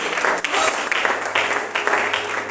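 Church congregation applauding during a prayer service: dense, sustained clapping from many hands fills the space, loud and close, with voices mixed in.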